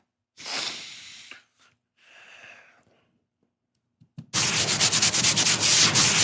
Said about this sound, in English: Now Joe has a head scratching sound effect